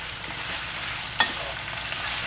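Pork and garlic for coconut-milk adobo fry in a pan with a steady, even sizzle and one brief clink partway through, no voices.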